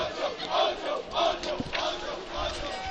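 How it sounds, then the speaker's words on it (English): Crowd of fans at a varsity high school baseball game chanting and cheering loudly and continuously, a rowdy mass of voices close by with no clear individual words. "Yeah, they're chanting and cheering"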